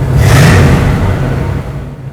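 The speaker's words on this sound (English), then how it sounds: "I'm going to rev it a couple times for you guys." A Pontiac Trans Am Special Edition Bandit car with dual exhaust revs loudly close by, its engine roaring up and then easing off over about two seconds with no talking.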